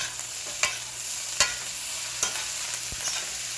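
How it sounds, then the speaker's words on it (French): Vegetables stirred in a frying pan with a utensil, soft scraping over a steady sizzle, with a few sharp clicks of the spoon against the pan spaced about a second apart; no talking. "On va mélanger ça un petit peu."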